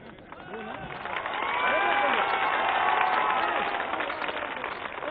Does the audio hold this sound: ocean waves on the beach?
no